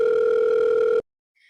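A single steady telephone tone sounds while a call is placed, holding evenly for about a second before cutting off into near silence, with a faint higher electronic blip just after.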